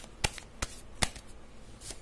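Tarot cards are shuffled and drawn, with four sharp, separate card snaps spaced about a third of a second apart over a quiet background.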